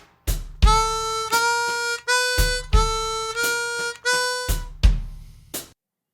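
A chromatic harmonica tuned to C plays a short slow-blues phrase of quarter-note triplets, evenly spaced sustained notes each starting with a sharp percussive attack, heard alone without any talking.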